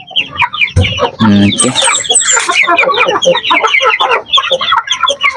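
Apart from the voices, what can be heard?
week-old chicks chirping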